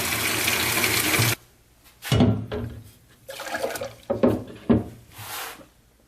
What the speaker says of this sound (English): we're just going to start with some hot water and some of the heavy duty degreaser